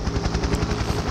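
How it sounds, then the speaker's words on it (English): Helicopter rotor chopping in the Splinter Cell game on PS2, a steady loud rhythmic thumping with dense broadband whine, continuous and close with no talk. "Nice, we get to go inside the chopper."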